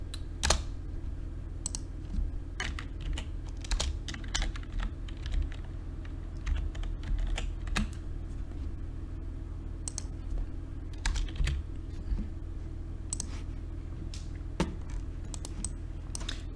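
Steady clatter of keystrokes on a computer keyboard, close and distinct, with irregular bursts of clicks over a low background hum and no talk.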